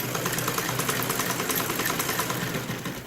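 A sewing machine stitching the hem of a salwar, its motor running in a fast, even mechanical rattle that stays close and continuous from start to finish, fading slightly at the end.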